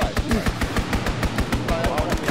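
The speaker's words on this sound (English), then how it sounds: "Call for a strafing run." Rapid video-game strafing gunfire from a fighter aircraft run rattles in a fast, even burst of shots throughout, loud and close, with a voice speaking over it.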